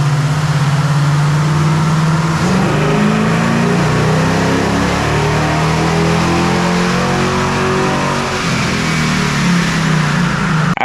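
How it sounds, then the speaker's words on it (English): A Mopar 440 big-block V8 on a dyno roars loudly and continuously, its pitch rising and falling as it revs under load with no voices. "we went ahead and ran the dyno again"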